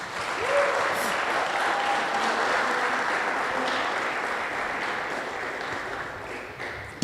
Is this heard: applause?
yes